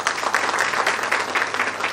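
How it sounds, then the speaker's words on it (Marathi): Dense, steady applause from an audience at an inauguration ceremony, many hands clapping at once in a continuous wash for the whole moment, with no voices standing out. "त्यामुळे तुमच्यासाठी एकदा जोरदार टाळ्या झाल्या पाहिजे।"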